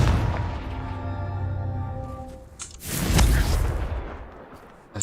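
The Confringo fire spell in Hogwarts Legacy erupts in a sharp, loud whooshing blast that swells and fades over a couple of seconds, following a steady tonal hum.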